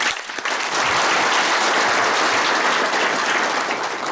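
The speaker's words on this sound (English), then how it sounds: "Can we do a louder clap than that?" A large audience at a nonprofit organisations' gathering in Nairobi bursts into loud, sustained clapping, a dense continuous roar of hands that swells within the first half second and carries on at full strength to the end.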